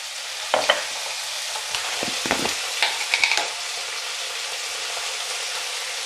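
Spice masala of cumin and dried red chilli paste with salt fries in a pan for paneer malaikari: a constant soft sizzle broken by a cluster of sharp spatula scrapes and taps midway, then settling back to steady frying without talk.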